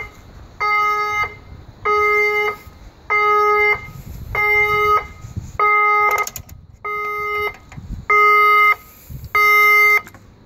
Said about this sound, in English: The fire alarm system has operated.